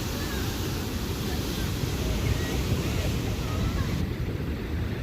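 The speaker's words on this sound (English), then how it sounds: "Yeah, that's a pretty angry ocean today. When you have waves all the way out here like this," Rough ocean surf at Jennette's Pier in Nags Head, North Carolina, roars in a steady, dense wash with wind buffeting the microphone throughout, loud and continuous with no distinct breaks.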